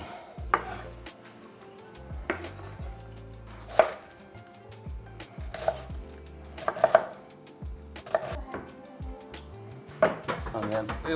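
A knife cuts through purple and white cabbage on a board into strands, crisp uneven chops and slices with brief pauses, close and moderately loud, over a quiet kitchen background.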